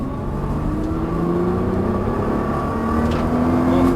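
A Nissan GT-R at full throttle on a race track, its engine note rising steadily as it accelerates hard, loud and close with a whining drivetrain.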